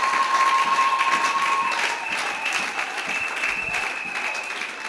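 A church congregation applauds during a worship service, a dense, steady wash of clapping that holds at a fairly even level for the whole stretch, with a faint sustained tone underneath.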